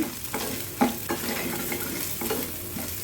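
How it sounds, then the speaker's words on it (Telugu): Onions seasoned with turmeric, chili powder and salt are stirred in a hot pan, with a soft sizzle under several distinct spoon scrapes and knocks against the metal. No one speaks. "బాగా మిక్స్ చేసేసేది."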